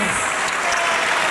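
Dense, steady applause fills the room for a singer and a musician, a continuous wash of many hands clapping at once, loud and close.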